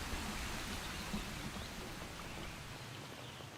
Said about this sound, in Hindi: तेज बारिश